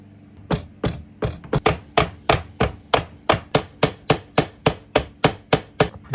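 Sharp, evenly spaced hammer blows strike metal in a workshop while working on an Aprilia motorcycle, about twenty hits at a steady rhythm with no talk.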